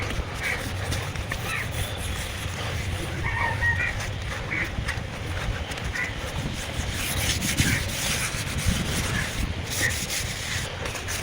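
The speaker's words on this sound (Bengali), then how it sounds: "প্রত্যেকটা টাকা আমি ঘষে দিচ্ছি, খুব সহজে তাড়াতাড়ি উঠে যায়।" A tractor piston ring being scrubbed by hand to strip off carbon deposits, giving a steady, close rasping rub that runs without pause from start to finish with no speech over it.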